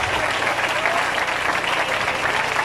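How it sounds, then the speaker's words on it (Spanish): Congregation applauding steadily throughout at a large church revival gathering, a dense, even wash of clapping and crowd noise at constant loudness with no pauses. "Dale un aplauso fuerte a Jesús."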